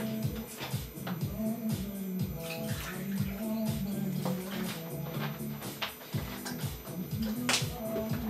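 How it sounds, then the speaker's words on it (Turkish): Tonic water poured over a rakı Blue Sky cocktail coloured with Blue Curaçao gives a steady, close liquid pour and fizz that runs throughout, mixed with busy tonal background sound. "Ve tonic water üstüne döküyoruz arkadaşlar."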